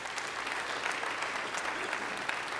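Applause fills a church service as the congregation claps, a continuous, even crackle of many hands, moderately loud and unbroken across the whole stretch.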